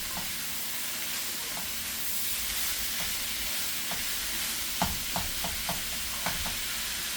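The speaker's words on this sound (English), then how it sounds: "So now I'm just gonna stir fry this up." Vegetables for stuffed peppers stir-fry in a lightly oiled pan, giving a steady, close hiss of sizzling. Scattered spatula scrapes and taps grow more frequent toward the end, with no talking.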